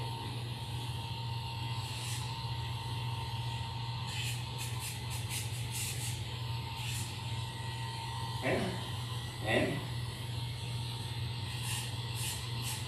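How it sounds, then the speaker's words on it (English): A Dremel rotary tool grinds a Yorkie's nails with a steady, continuous buzzing hum at close range. Two brief louder scrapes break in near the end. "I use the tip of the Dremel nearest the pad to round off the"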